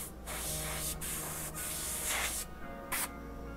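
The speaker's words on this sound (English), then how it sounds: "I was airbrushing flat." Airbrush hissing steadily as it sprays automotive paint onto a custom Bell Rogue half motorcycle helmet, a continuous close spray broken by several brief pauses.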